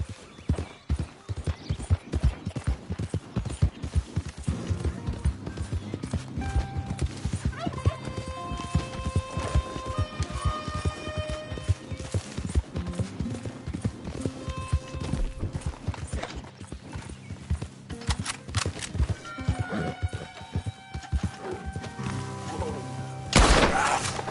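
Rhythmic clip-clop of horse hooves galloping in a PS5 video game, steady and close throughout, with mechanical clanks, occasional tonal game sounds and a whinny layered in.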